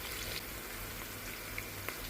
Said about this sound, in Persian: 4 تا حبه سیر پوست کندم خرد کردم میریزم داخلش.